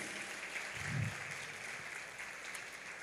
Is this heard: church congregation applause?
yes